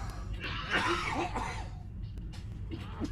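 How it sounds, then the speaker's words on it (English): Several rough, raspy coughs burst out close by, followed by a quieter throat-clearing sound and a few faint noises against a low background hum. "Sorry, everyone, for coughing."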